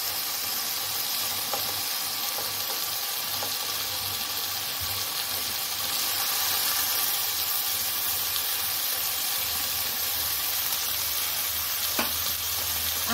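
Boiled vegetable stalks and fried potatoes sizzle steadily in a hot pan, a continuous close frying hiss with occasional crackles and faint stirring, no voices.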